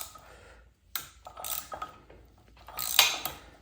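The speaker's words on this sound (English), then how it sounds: "I got the special tool here to add torque so I can take off the nut." A torque multiplier works on a Volkswagen flywheel nut, giving irregular metallic clicks, ratcheting and clanks at close range between short pauses.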